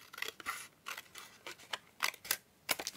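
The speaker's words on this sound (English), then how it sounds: "Just cut some strips very loosely" Scissors snip through paper, loosely cutting strips for a junk journal page, heard as a series of short, crisp, close cuts in irregular bursts with brief pauses between them and no voice.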